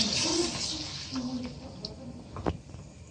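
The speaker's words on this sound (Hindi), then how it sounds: "पानी अगर हो तो गर्म डालें, तो मेरे पास गर्म पानी है।" Hot water is poured into a desi chicken handi pot, a soft splashing pour that fades into quieter trickles and a few clinks of the pot, fairly close and modest in volume.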